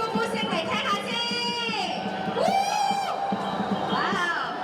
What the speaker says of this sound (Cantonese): 見到火龍嘅時候，俾啲歡呼聲嚟聽下先